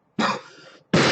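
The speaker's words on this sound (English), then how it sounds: "I may be coughing through this." Two harsh, loud coughs from a sick man, close up, separated by a short pause, with no speech around them.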